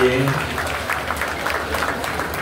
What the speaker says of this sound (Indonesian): Tepuk tangan untuk Pak SBY.